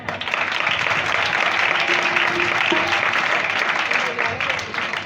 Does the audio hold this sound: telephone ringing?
no